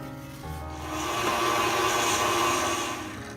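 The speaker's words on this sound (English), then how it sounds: "I'm going to scrape down the sides of my bowl" A spatula scrapes down the sides of a mixing bowl of brownie batter, giving one continuous close rubbing scrape that swells and then fades over a few seconds.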